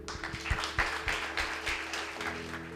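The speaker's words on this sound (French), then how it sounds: "On peut les applaudir." Applause from an audience, a steady wash of many hands clapping with a few sharper claps standing out, moderately loud and continuous.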